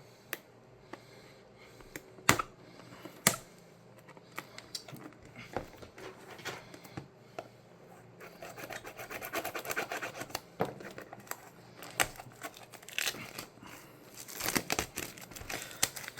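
Cardfight!! Vanguard Parallactic Clash booster packs being torn open and handled, with close, intermittent crinkling and scratching of foil wrappers, sharp tearing bursts and shuffling of cards, growing busier in the second half.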